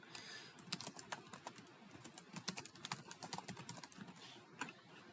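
Fingers tap out an email address on a computer keyboard, with steady, closely spaced key clicks and a few louder strikes, heard close up with no talking.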